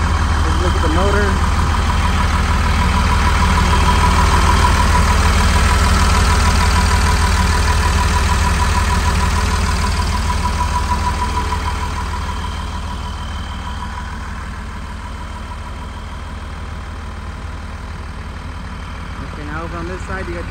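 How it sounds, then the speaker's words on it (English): A 2003 Newmar Dutch Star 4006 motorhome engine idles with a steady low rumble throughout, loud and close at first and easing slightly quieter partway through, while someone talks over it. "we do have the motor running"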